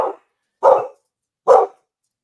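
A dog barks three times, each bark short and loud, with clear gaps of silence between them and no other sound around.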